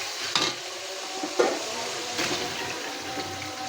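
Taro stems drop into a karahi of fried spice paste, setting off a steady close sizzle with a few soft clatters and stirring scrapes over the hiss.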